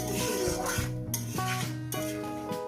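A spoon scrapes and clinks against a pot while fish in mustard masala simmers with a light sizzle, the strokes rhythmic and close, with no voices.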